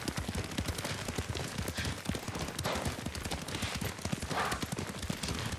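Horse hooves clip-clopping at a steady riding pace in the Ghost of Tsushima video game, a continuous rhythmic trot of dense hoof strikes close by, with faint background ambience and no talk.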